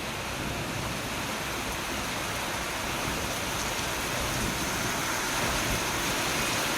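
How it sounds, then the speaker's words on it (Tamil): Heavy rain pours steadily over Chennai, a loud, even roar of falling water across the whole stretch with no letup and no voices. "பகுதிகளிலும் பரவலாக மழை பெய்து வருகிறது"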